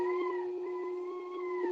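Dogs howling in a long, steady, tonal howl held through the whole short stretch, with a faint wavering in pitch and no speech over it.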